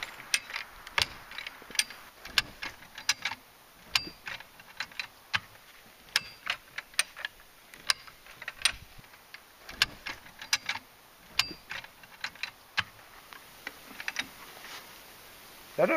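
A come-along ratchet winch cranked to drag a shed in the woods, clicking its pawl in steady repeated bursts, close and crisp, over a faint background hum with no talking.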